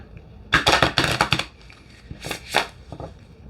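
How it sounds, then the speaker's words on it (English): Flower essence oracle cards being shuffled by hand, a quick burst of papery riffling and tapping followed by a few softer shuffles, close and alone. "let's see how they shuffle."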